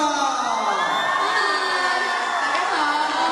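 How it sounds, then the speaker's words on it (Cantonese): A packed crowd at a 2007 cheerleading dance contest cheering and screaming for the pop duo HotCha, with dense, high-pitched shouts and whoops that hold steady and loud throughout. "俾啲掌聲，黑茶！"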